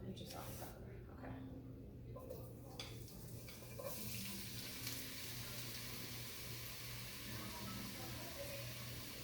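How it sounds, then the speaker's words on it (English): Shredded jackfruit hisses and sizzles in hot oil in a pan on a gas stove, a soft, steady frying crackle that thickens after the pieces go in, with people talking over it. "we're just going to toss the jackfruit in"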